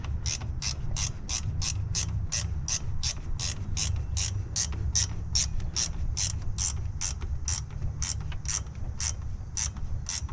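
Ratchet with a 14 mm socket tightening an alternator bolt, a fast, even train of close, crisp clicks repeating steadily throughout with a low mechanical hum underneath.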